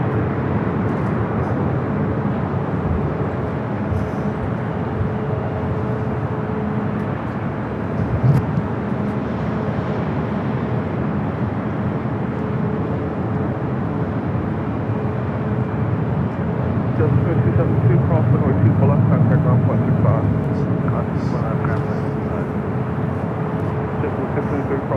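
Jet engine roar from a Boeing 747-8 Intercontinental cargo jet taking off at Los Angeles airport, a steady loud broadband rumble that holds throughout and swells slightly near the end.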